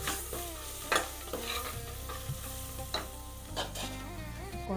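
Fresh garlic stirred into a goat leg curry frying in a pot, with a soft sizzle under several distinct scraping strokes of a spoon at irregular intervals.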